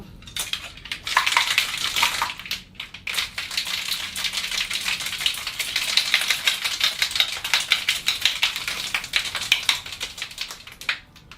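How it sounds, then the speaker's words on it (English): Ice rattles hard inside a cocktail shaker, shaken with a drink containing a quarter teaspoon of sugar: a loud, dense, steady clatter that runs almost without a break for about ten seconds, with no voices. "So put your lid on and give it a nice good shake"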